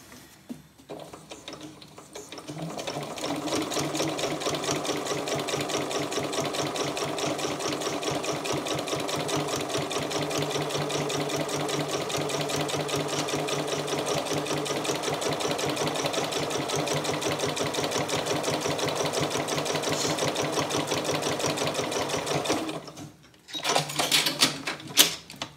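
A sewing machine stitches a vinyl project bag in one long, steady run of fast rhythmic needle clatter, close and loud, stopping near the end before a few brief handling sounds.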